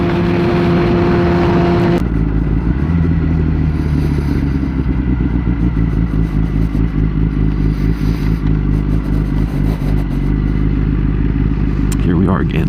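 A Kawasaki ZX10-R sport bike ridden over a very bumpy road: loud, close engine drone with clattering and rattling from the rough surface, a sharp shift in engine note early on, running continuously throughout.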